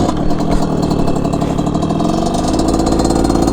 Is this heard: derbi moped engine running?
yes